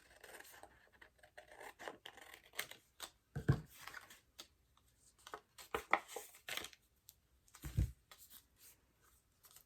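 Scissors snipping through a piece of paper for a junk journal: scattered crisp cuts and rustling paper handling, with a few louder snips spaced across the stretch, close and fairly quiet.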